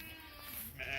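Sheep, lambs and young goats straggling across a creek, with a close bleat drawn out over about a second against an outdoor background.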